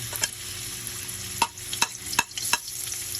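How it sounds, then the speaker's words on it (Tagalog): Aromatics such as ginger sautéing in hot oil in a pan, a steady sizzle under a few sharp clinks and scrapes of a utensil stirring against the pan. "magigisa na tayo"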